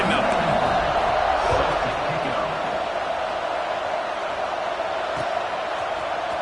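Stadium crowd noise in the College Football 26 video game, a steady, loud roar of many voices with scattered cheers and whoops, continuous throughout as a wide ambient wash with no distinct talk.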